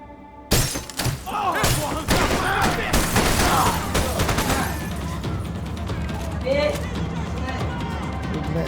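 Shotgun blasts in the action game Max Payne 3, a burst of loud booming shots with shattering and impacts, then scattered firing fading into background noise, with people talking over it.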